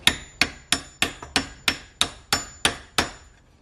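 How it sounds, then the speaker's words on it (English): Hammer striking a Torx bit socket to drive a clutch pin in during a stage 4 clutch install on a Honda Civic EG: ten sharp metallic blows at a steady pace, close and loud, each ringing briefly before the next. "then you're gonna take a hammer and you're gonna smash the fuck out of it until it's in"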